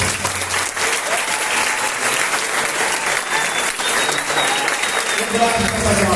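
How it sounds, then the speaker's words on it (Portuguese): Audience applauding a guest at a talk on the job market with a pilot, a steady dense wash of clapping throughout, some voices mixed in underneath. "Uma salva de palmas."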